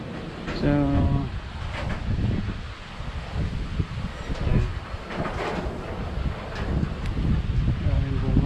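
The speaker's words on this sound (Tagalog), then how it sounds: "Sobrang lakas ang hangin." Strong wind sweeping through the countryside, a steady roaring rush with gusty swells that blankets the whole stretch, close to the microphone with someone speaking faintly beneath it.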